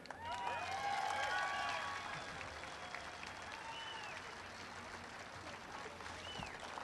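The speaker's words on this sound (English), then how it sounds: "Round of applause for George Nee." A labor rally crowd applauds speaker George Nee, a broad wash of clapping that is loudest at first and then eases to a steady lower level, with whistles rising above it.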